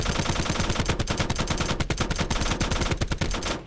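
Rapid automatic gunfire in the Black Ops 4: Blackout battle royale game, a sustained loud burst of closely spaced shots filling nearly four seconds before cutting off abruptly.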